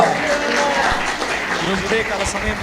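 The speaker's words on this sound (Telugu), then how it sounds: "గట్టిగా చప్పట్లు మీద మహిమపరుద్దాం." A church congregation at a Sunday service in Warangal breaks into loud, sustained clapping that fills the room, with voices mixed in over the applause.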